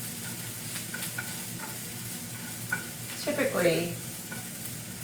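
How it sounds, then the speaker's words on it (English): Onion browning in a pan, a steady close sizzle with light stirring scrapes, and a brief spoken word near the end. "My onion is actually browning here."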